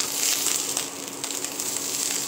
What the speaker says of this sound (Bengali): আর এইখানে এই যে আমি অনির জন্য একটু ভাত ভাজা করছি নিয়ে যাওয়ার জন্য গাড়িতে।